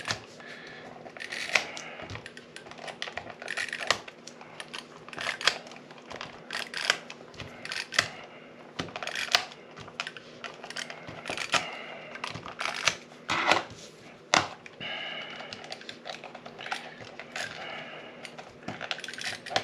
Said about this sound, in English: I think I'm really getting to the end of that tape roll.